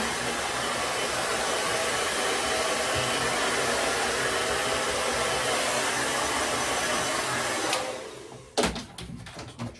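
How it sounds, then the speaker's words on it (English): A hair dryer blowing on a men's non-surgical hair replacement system after a cut: a loud, steady close-up whoosh for about eight seconds, then it shuts off and a few handling clicks follow. "what I'm gonna do is dry it off a little bit"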